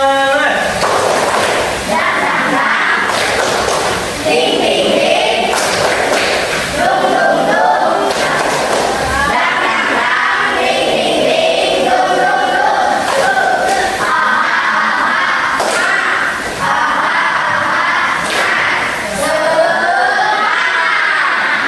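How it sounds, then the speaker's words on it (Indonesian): A group of schoolchildren in an Indonesian classroom perform a rhythmic spirit-clap chant, sharp hand claps in patterned bursts mixed with loud shouted voices, continuous and close for the whole stretch. "Tepuk semangat."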